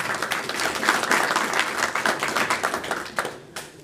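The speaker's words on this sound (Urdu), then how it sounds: "میں چاہوں گا ان کے لیے بھی آپ بھرپور تالیاں بجائیں۔" A poetry gathering audience in Willesden Green, London claps heartily, dense applause rising quickly then thinning to scattered individual claps at the end, close and fairly loud.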